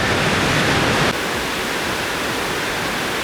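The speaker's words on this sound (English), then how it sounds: "Swim here in the front of the waterfall." Kravica waterfall rushing in a steady, loud broadband roar that drops slightly in level after the first second and then continues evenly.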